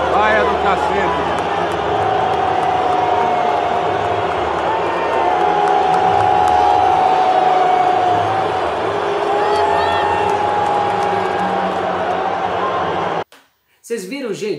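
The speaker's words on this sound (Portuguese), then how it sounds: "Vaia do cacete." Large stadium crowd at Maracanã booing Bolsonaro, a loud sustained roar of massed voices filling the space, with whistles and shouted chants rising over it before an abrupt cutoff near the end.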